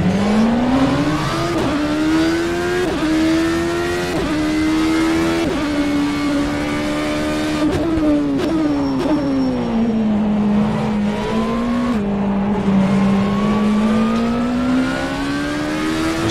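ByKolles ENSO CLM P1/1 prototype race car engine in the rFactor 2 sim game, a loud continuous whine rising steadily through the gears with quick upshift dips, constant and alone throughout.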